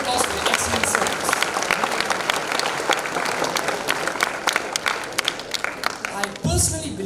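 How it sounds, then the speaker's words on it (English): Audience applause fills a school senior investiture ceremony, a dense, steady wash of many hands clapping close and loud for several seconds before fading, with some voices underneath. "Let's give them all a round of applause for their excellent service."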